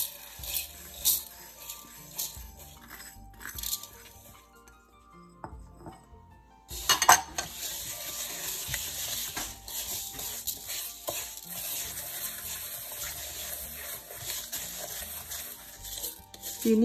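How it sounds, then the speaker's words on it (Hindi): Egg whites and sugar for coconut macaroons are whisked in a bowl, giving quick scraping and clinking strokes that pause briefly, then resume in a steady, busy rhythm, no talk. "चीनी और अंडों की सफेदी को हम मिक्स करेंगे"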